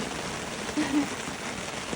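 Rain falls steadily at a riverside carp fishing spot, a dense even hiss of drops hitting surfaces, with a faint voice briefly in the background.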